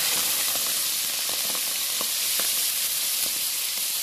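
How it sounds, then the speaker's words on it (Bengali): Oysters frying in a pan, coated with salt and turmeric, give a steady loud hiss and sizzle with scattered small pops and crackles throughout, no voices. "আর আমি এখন ঝিনুকটা ভেজে নেব"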